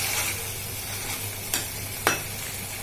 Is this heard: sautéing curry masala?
yes